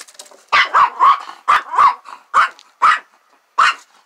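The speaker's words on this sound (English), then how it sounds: "Quit barking at her." A dog barks at sheep in a run of loud, close, sharp barks with short gaps, some with a growling edge, and no talking in between.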